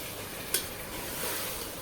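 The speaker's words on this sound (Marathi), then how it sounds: "हे सर्व टाकून याला चांगलं परतून घ्यायचं आहे आपल्याला." Chicken sautéed with turmeric and homemade garam masala for pulao, a steady close sizzle with one brief scrape of a spoon against the pan early on, no voices.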